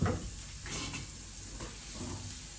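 Chorizo sizzling and frying in a hot pan, a steady hiss with occasional stirring scrapes and spits, close and fairly soft, no talking.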